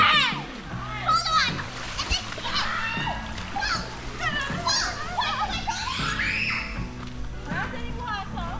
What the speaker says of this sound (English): we come out by the bridge where the creek run to have a swim